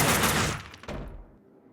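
A burst of loud gunfire fills a Max Payne 2 firefight. Several rapid shots blur together, then trail off into a short echoing decay.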